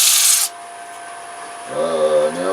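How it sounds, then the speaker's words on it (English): A wooden plate is hand-sanded in one short rasping stroke, close and loud, followed by a thin tonal squeak. "the sanding is kind of how much time you want to spend on it"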